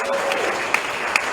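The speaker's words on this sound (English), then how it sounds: "I believe we can give him a very big round of applause." An audience applauds at a political event on the New Patriotic Party's achievements, a brief steady patter of clapping with a few sharper claps standing out.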